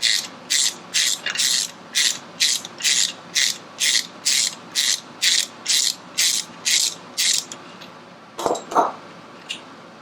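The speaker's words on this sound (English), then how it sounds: "I'm just grabbing the top nut right now, and it's coming out easily." A ratchet wrench clicks in a fast, even series of strokes as it loosens and removes the top nut on a motorcycle, loud and close, then stops and is followed by a couple of clinks.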